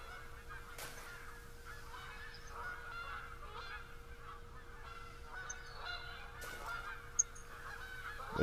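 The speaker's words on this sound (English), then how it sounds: "Here's some geese" A flock of geese honks repeatedly in the hunting video game theHunter: Call of the Wild, in the Hirschfelden reserve. The calls are soft and somewhat distant over a low steady ambient hum, with no talking.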